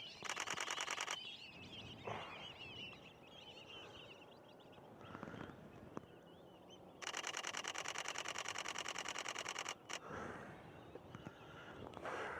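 A Canon 90D fires its shutter in rapid bursts outdoors, two long strings of fast mechanical clicks separated by quieter pauses with single clicks and faint background noise, no voices.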